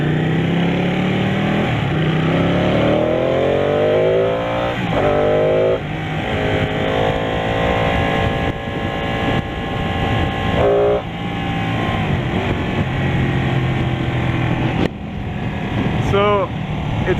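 Ducati Panigale 899 (2018) motorcycle engine on a test ride, loud and close throughout, with rising and falling revs through gear changes over steady wind rush.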